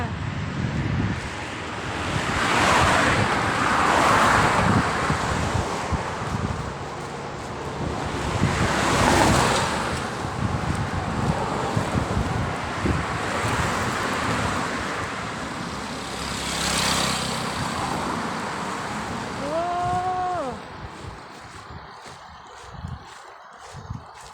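Steady, loud wind gusts roar through tree branches outdoors beside green rice fields in northern Thailand, swelling and easing in broad waves for the whole stretch, with a faint rising whistle-like tone near the end.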